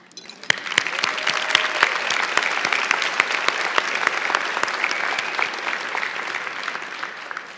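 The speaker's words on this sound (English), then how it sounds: "let's give a quick round of applause to those who have touched our lives in meaningful ways" A graduation audience for a high school class of 2014 breaks into sustained applause, a dense wash of clapping that swells quickly and holds steady at full strength, with a few sharp claps standing out near the front.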